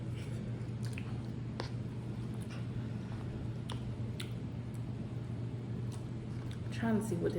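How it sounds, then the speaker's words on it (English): Someone eats Rap Snacks noodles, with soft close-up chewing and occasional wet clicks over a steady low hum, and a voice briefly at the end. "let me taste some of these noodles"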